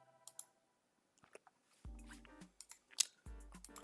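Short, sharp clicks of a computer mouse come in a quick scattered series, close and fairly faint, mixed with a few louder thumps and small knocks around them.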